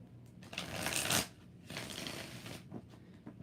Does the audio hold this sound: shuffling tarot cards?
yes